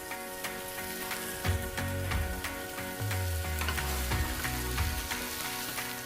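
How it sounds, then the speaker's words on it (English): Nile perch sizzles steadily in a hot pan of oil and butter, with crackling pops and occasional utensil clinks, no talking. "When you're pan frying fish, it's good to be generous with the oil and the butter"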